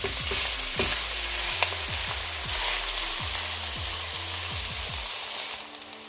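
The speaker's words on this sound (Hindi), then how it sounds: "अब इसमें मैं चावलों को ऐड करूँगी जो मैंने ड्रेन किए थे।" Drained rice added to a pot of ghee with cooked cardamom, hissing in a steady, close sizzle with scattered soft pops and stirring clinks, no talking.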